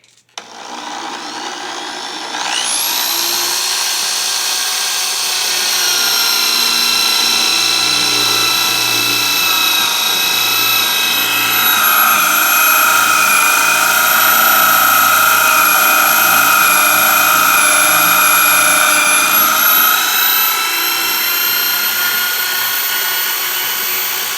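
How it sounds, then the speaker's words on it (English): A variable-speed electric drill whirs up to a steady high-pitched whine while boring a hole in wood, running continuously for a long stretch, loud and close, with no voices. "We'll just drill a simple hole. Crank this over to turn it on. It's variable speed."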